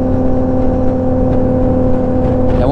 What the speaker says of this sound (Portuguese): a moto pequena na estrada é ruim por causa disso, ó. Os caminhões andam moendo.